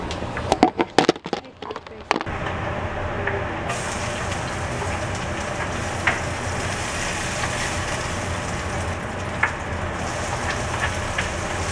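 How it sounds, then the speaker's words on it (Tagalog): Garlic and onion sautéing in a pan, heard after a few clattering knocks as a steady loud hiss and sizzle with occasional pops. "igisa ko muna yung bawang, sibuyas"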